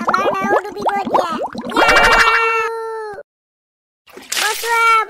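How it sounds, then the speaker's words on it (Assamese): Cartoon splash and water gurgle effects as a boat sinks into a river, mixed with overlapping animated voices, a brief silence, then a loud bubbling burst at the end. "আমাৰ নাও ডুবিব এতিয়া।"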